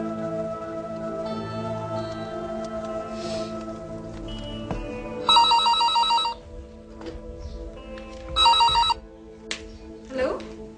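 A telephone rings in two clear electronic bursts, a couple of seconds apart, amid room sounds and muffled talk before the call is answered.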